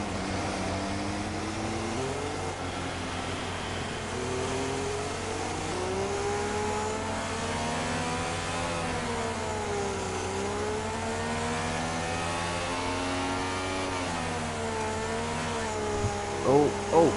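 A race car in a Chinese Grand Prix sim race, driving slowly in intermediate wet conditions: a steady, continuous engine drone whose pitch rises and falls with gear changes and throttle, with commentary talking over it.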